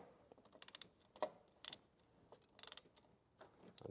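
A ratchet wrench backs off an oil pressure sending unit on a 2000-2006 GM truck or SUV, giving short bursts of quick rapid clicks separated by pauses, close and faint.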